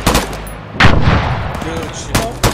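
Bursts of machine gun fire crack out in short, loud volleys, with a sharp burst at the start, another near the middle and more at the end, while people speak briefly between them.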